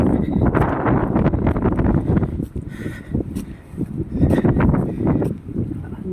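Strong storm wind in Greenland, blowing around buildings in loud, roaring gusts that swell and ease in waves, with rustling and buffeting noise on the microphone throughout.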